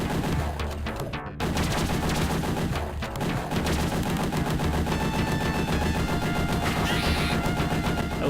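Rapid automatic gunfire from the Aliens video game, loud and continuous, with dense overlapping bursts of shots and brief dips in the firing around the second mark.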